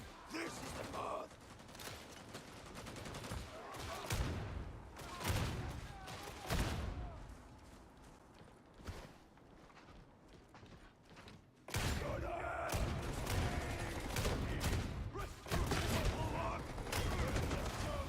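Dense gunfire from enemy gunners in the video game Warhammer 40k Darktide pounds throughout, with bursts, mechanical clatter and loud stretches near the end, as someone talks over the battle.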